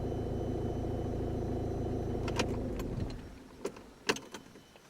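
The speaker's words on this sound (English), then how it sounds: "Now turn the engine off." A car engine, in a car fitted with a battery voltage and temperature reader, is switched off: a steady close idle rumble runs for about three seconds, then dies away, followed by a few faint clicks and light knocks in near silence.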